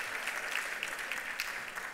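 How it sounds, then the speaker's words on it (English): A room of guests at a law-and-poverty nonprofit garden party claps in a sustained, fairly soft round of applause, an even wash of hands heard from some distance. "Give her another round of applause."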